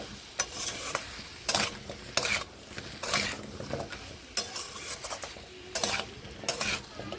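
A pointed gourd and pumpkin vegetable curry stirred in a pan, with repeated rhythmic scraping strokes of a spatula over a steady, close sizzle of frying.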